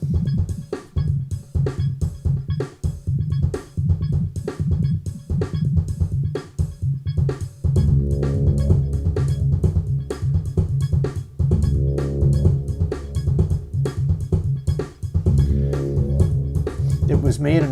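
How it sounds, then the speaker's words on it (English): A tracker-based electronic song made on a cell phone plays with steady pulsing drums and bass, a fuller tonal layer joining partway through, loud and continuous without talking. "It's a sort of tracker-based song made in a cell phone."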